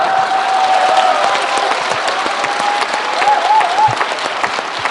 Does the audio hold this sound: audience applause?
yes